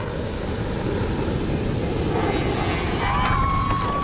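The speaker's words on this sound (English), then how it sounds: "A passenger jet filled with French families is plunging towards the Red Sea" A passenger jet carrying families plunges toward the Red Sea, its engines producing a loud, steady roar that fills the scene, with a rising whine and tonal edge near the end.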